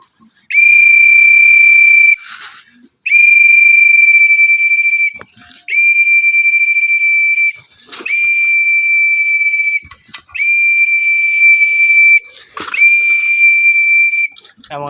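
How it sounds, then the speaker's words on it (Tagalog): A whistle is blown in six long, loud, steady blasts to call birds in for feeding. The blasts are evenly spaced with short gaps of near silence between them. "Nakuha ko na ang pito mga idol."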